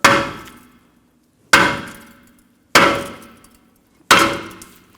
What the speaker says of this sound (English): If it's stuck, just take a hammer, give it a tap.